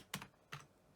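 Three quick, crisp key presses on a computer keyboard, close and faint, evenly spaced within a second.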